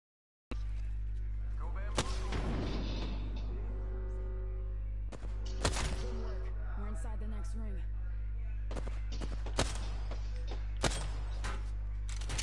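Gunfire rings out during an Apex Legends shootout with Bangalore: scattered sharp shots over a steady game hum, a few clustered early and more spread out later, fairly close and loud.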